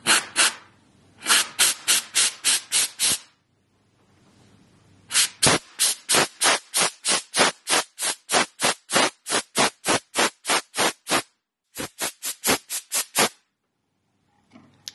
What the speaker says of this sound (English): let's see if the steamer will blow this away